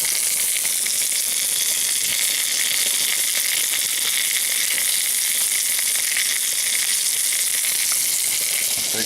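Italian sausage sizzles and fries steadily in a hot pan, a dense, continuous crackle close to the mic with no talking.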